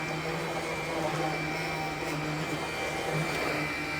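A vacuum cleaner running over a car mat, adjusting as it detects the floor type, gives a steady, close motor whine with a constant hum and no talk over it.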